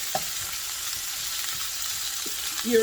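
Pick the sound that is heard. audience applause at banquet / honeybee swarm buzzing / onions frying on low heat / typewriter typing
onions frying on low heat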